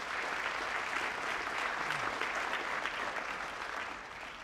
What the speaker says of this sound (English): big round of applause for Danae